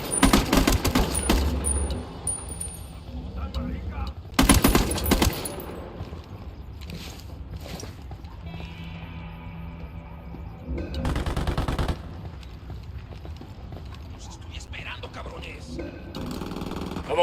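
Gunfire in the Ghost Recon Wildlands video game comes as loud bursts of rapid automatic fire, separated by quieter stretches of game ambience where voices talk.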